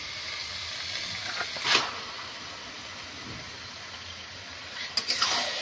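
Mutton pieces hit hot fried spices and oil for a Bengali mutton kosha curry, giving a steady soft sizzle with brief louder bursts of hissing and spattering, near and alone.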